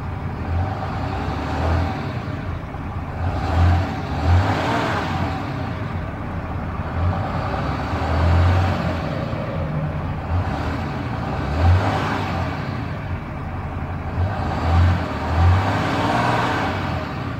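A 2013 Dodge Ram 3500 dually Mega Cab with a Cummins diesel runs nearby, a deep rumbling idle that swells into several brief revs at regular intervals, with no talk.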